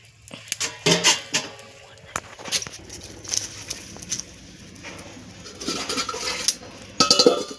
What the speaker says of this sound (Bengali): এই যে থালাটা চাপা দিয়ে দেবো এটা চাপা দিলে ভালো করে সেদ্ধটা হয়ে যাবে